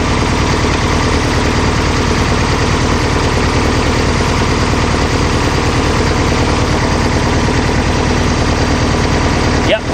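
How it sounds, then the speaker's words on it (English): A Type-3 engine fitted with dual carburetors idles evenly just after linkage work, giving a steady, close, low-pitched rhythmic putter that holds without change for the full ten seconds, with a brief clank near the end. "Sounds like we're still idling normally."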